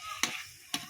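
Pork and tomato stew cooking in a pot over a charcoal fire: two short, close scraping stirs over a faint bubbling, sizzling background.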